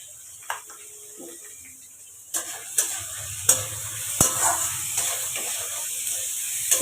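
Mixed vegetables sizzle and hiss in a hot pan beside a fried rice preparation. A utensil scrapes and taps the pan in a regular run of stirring strokes.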